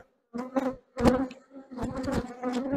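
Angry honeybees buzz around an open beehive during an inspection, in close, loud, uneven bursts that swell and cut out briefly, with no voices.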